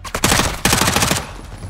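Gunfire in the video game Call of Duty: Modern Warfare 2 during a Mexican prison break: two loud, rapid automatic bursts with rattling shots close by, then a fading echo.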